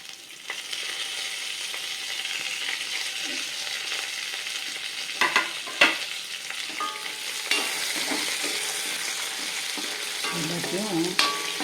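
Spices and ingredients for onion-free, garlic-free poricha kootu frying in a pan, producing a steady, fairly loud sizzle with occasional stirring scrapes and clatters, heard alone without talk.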